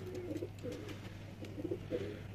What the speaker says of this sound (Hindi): ये ओरिजिनल जोड़ों वाले कबूतर हैं